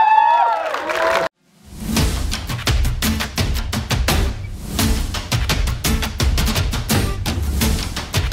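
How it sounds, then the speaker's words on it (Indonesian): A press screening audience for the superhero film Sri Asih bursts into loud, sustained applause and cheering after a short pause, with dense clapping continuing steadily. "beri tepuk tangan yang meriah untuk seluruh tim dari film Seni Asi."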